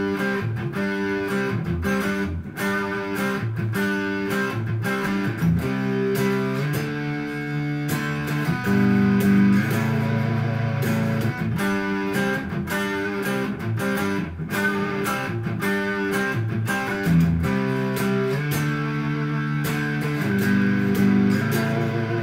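Electric guitar through a modded Boss SD-1 overdrive pedal, played as a steady run of driven chords and notes for over twenty seconds, loud and continuous with no talk.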